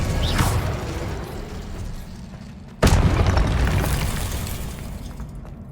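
A Confringo blasting spell explodes in the video game Hogwarts Legacy, a sudden loud boom cutting in near the middle over dense, continuous game noise and rumble, with no talking.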